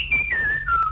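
A person whistles a melody, a short clear phrase of a few sustained, gliding notes stepping downward, close and alone without talk.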